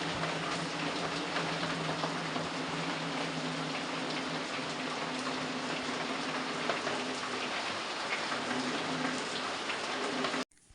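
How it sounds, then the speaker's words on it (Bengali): Steady heavy rain falling outdoors in hot weather, a dense, even hiss of drops hitting surfaces that continues unbroken for about ten seconds before cutting off abruptly, fairly loud and without voices. "এইদিকে দেখো এরকমভাবে বৃষ্টি হচ্ছে।"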